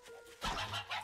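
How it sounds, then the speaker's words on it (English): A video game chicken clucking in a few short, faint bursts that grow a little louder toward the end, with no talking over them. "Ooh, chicken."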